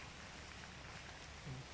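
Soft, steady rain patter fills the background, heard from under a tricycle, faint and even, with no voices.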